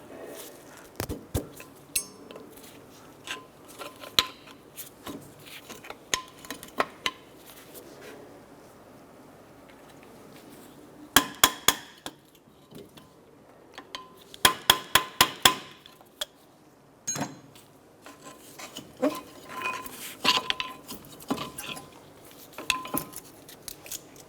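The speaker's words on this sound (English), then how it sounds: "I'm going to go ahead and remove our brake pads." Metal brake pads are pried and knocked out of a Chevrolet Impala brake caliper, scattered sharp metallic clinks and taps with quiet gaps and a few clustered bursts of clattering.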